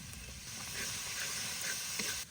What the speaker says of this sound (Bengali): এই মশলাগুলো একটু কষিয়ে নিই, তারপরে পোস্ত বাটা দেবো